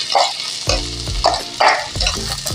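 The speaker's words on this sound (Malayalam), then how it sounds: "ഈ കൂട്ട് നമ്മൾ എണ്ണയിലൊന്ന് മൂപ്പിച്ചെടുക്കണം" A spice mixture drops into hot oil where garlic is already browning, for a banana stem and green gram thoran. It gives loud bursts of sizzle with heavy thuds and scraping stirs at an uneven rhythm, close up.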